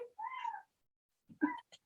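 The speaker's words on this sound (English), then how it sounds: "She has the tiniest little meow." A small cat gives two tiny, soft meows about a second apart, faint and close, with a brief chirp after the second, in an otherwise quiet room.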